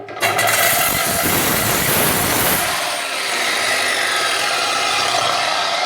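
A Parkside PWS 230 C3 angle grinder with a thin disc grinds briefly: a loud harsh whining rasp starts abruptly, holds for about two seconds, then eases into the steady high spin of the disc running free.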